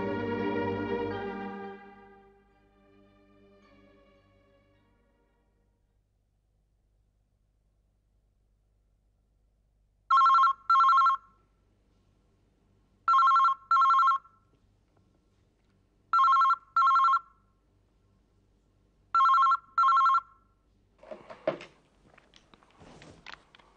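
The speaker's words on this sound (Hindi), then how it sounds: "पूजा इतनी रात गए फोन किया, क्या बात है?" A telephone rings late at night in a quiet room: four paired bursts of a bright electronic bell, evenly spaced and loud, followed by faint rustling as the call is picked up.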